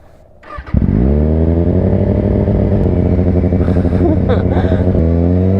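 A Kawasaki Ninja 636 motorcycle engine starts up and revs hard, settling into a loud, steady, close roar with rising throttle surges and no talking over it.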